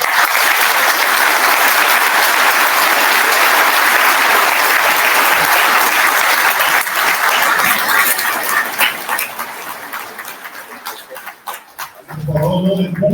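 Dense, loud applause from a convention audience, sustained for several seconds before thinning into scattered claps, then a voice starts speaking at the end.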